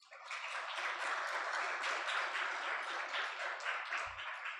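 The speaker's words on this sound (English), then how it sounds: "Can we just give them a big round of applause?" An audience at an event on fast-growing African cities breaks into a big round of applause, dense sustained clapping that holds steady for several seconds before starting to thin, with no talk over it.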